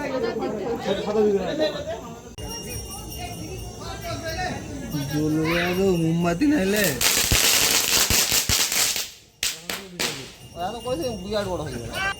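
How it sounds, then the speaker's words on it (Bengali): Bidi bomb firecrackers going off during Kali Puja Diwali celebrations, with a burst of sharp, loud crackling blasts in the latter half, heard over children's excited chatter and talk throughout. "এই হচ্ছে বিড়ি বোম বিরাট ফাটছে"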